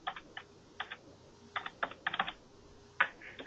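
Fingers tapping keys on a computer keyboard while entering a code, in short irregular bursts of clicks separated by brief pauses, close and fairly quiet.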